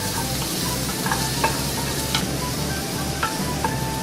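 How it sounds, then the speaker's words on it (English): Sausages dropped into a hot frying pan crackle with a loud, steady close sizzle, broken by a few sharp pops and clinks of the pan, with no talking. "You're gonna put the sausages into a pan."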